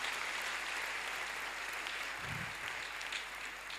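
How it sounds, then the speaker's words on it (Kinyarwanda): Church congregation applauding for God after a sermon, a steady, dense wash of clapping that holds at an even level for the whole stretch. "Reka twongere dukomere Imana amashyi."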